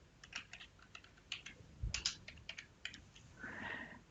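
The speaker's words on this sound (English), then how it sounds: "I have to type my login and password" A login and password are tapped out on a computer keyboard in quick, uneven bursts of light clicks, close and fairly quiet, with a short pause midway and no speech.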